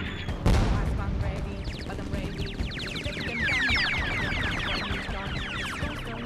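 Special firework attack in the Persona 5 Royal video game: a sharp burst opens, followed by crackling, rapidly chirping and whistling pyrotechnic effects layered over a busy rumbling battle soundtrack.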